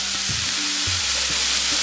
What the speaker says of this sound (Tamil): இது ஜஸ்ட் வதங்கட்டும்